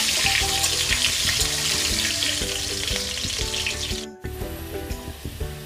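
Cut potatoes frying in hot oil for a Bengali egg curry, a loud close sizzle with stirring and clatter, a brief pause near the end, then the frying resumes; no voices.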